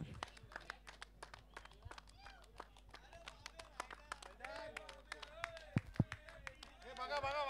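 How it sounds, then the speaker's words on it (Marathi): An audience at a cricket prize ceremony claps for the winning team, scattered sharp claps building steadily over faint background noise, with people talking throughout. "हाजी कसम 11 जोरदार टाळ्या होऊन जाऊ द्या या टीम साठी."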